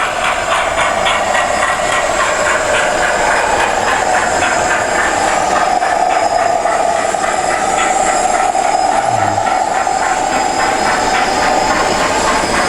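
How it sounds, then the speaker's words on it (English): A small Hornby model steam locomotive runs steadily along its track, with continuous close hissing and a fast, rhythmic clicking throughout, and no voices. "I'll slow the steam engine down"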